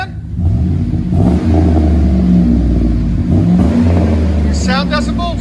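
A Chevy/GMC 5.3L V8 with an aftermarket exhaust is revved repeatedly, giving a deep, smooth, fairly loud rumble that rises and falls in bursts. People talk over it in the middle and near the end.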